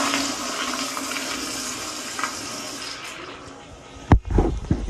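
American Standard toilet in a hotel bathroom flushing, a loud rushing swirl of water that drains away with a brief sharp surge near the end, close up, with no talk during the flush.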